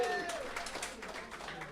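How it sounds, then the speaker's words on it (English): An audience at a day care centre gathering applauds in a soft, diffuse patter of clapping, fairly distant, with voices talking over it. "Big round of applause, everybody"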